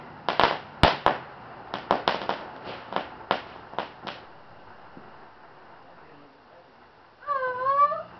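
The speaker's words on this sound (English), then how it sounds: "That's fireworks, honey." Fireworks on the Fourth of July, a string of sharp cracks and pops at a moderate distance, irregular and fading, followed near the end by a voice.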